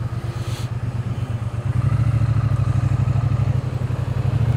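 A motorcycle riding on the road, its engine pulsing rapidly and low, first choppy and then steadier and louder as it accelerates, close with wind noise.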